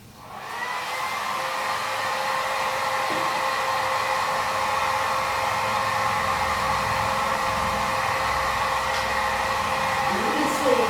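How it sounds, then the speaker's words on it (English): A hair dryer blows steadily and close up while being moved back and forth to dry a painting, a constant loud whooshing hum that fills the whole stretch. "you can't really help using the hair dryer and holding it back and forth and drying this"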